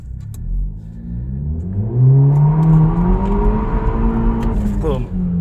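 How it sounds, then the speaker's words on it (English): A BMW accelerates hard with traction control switched off, its engine note climbing steadily in pitch, loud and close from inside the car, then dipping briefly near the end. "Just put traction control off, and then just let's lounge a little bit,"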